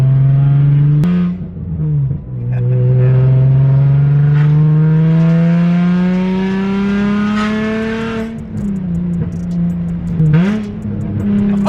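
A loud car engine revs continuously, its pitch climbing steadily with a couple of brief dips and throttle blips, close and sustained.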